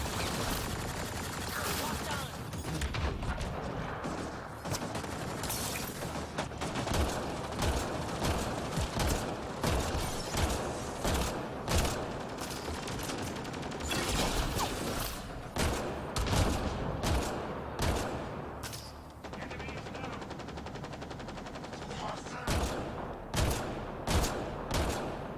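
Rapid minigun fire from the shooter Mass Effect: Andromeda on Insanity difficulty, with dense overlapping bursts and blasts running nearly continuously and loudly, mixed with other combat effects.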